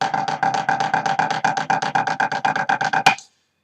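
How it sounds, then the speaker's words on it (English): A rapid pipe band snare drum closed roll, overpulsed and broken into distinct bursts rather than a smooth buzz, about six pulses a second, ending in a sharp accent. "your roll will sound very segmented, or it will sound overpulsed, so it will sound like this."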